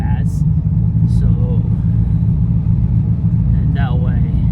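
A Corvette idles with no throttle applied, a steady low engine rumble running continuously and close, with people talking over it and no revving.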